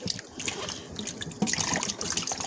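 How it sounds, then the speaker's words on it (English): Tomatoes rinsed under running tap water in a sink, a splashing, trickling stream with uneven gurgles and drips, close and moderately loud, no talk. "now you're going to rinse your tomatoes after you wash them really well"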